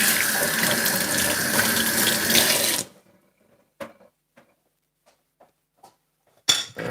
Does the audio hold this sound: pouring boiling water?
yes